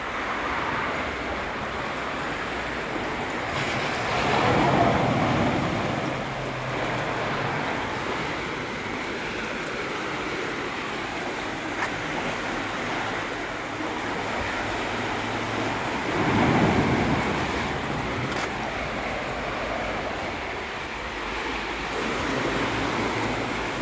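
Ocean waves wash onto the West Coast beach at Holetown, St. James, Barbados, a continuous surf rush with two louder breaking swells rising and fading, heard from nearby.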